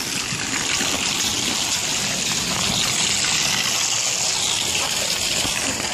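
Floodwater runs after rain, rushing and steady like a stream throughout, fairly loud and constant with no pauses.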